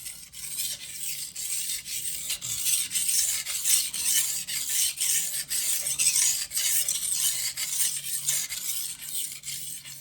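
A knife edge drawn across a sharpening stone with very light pressure gives a steady, bright rasp in rhythmic, evenly spaced strokes, close and continuous with no talking.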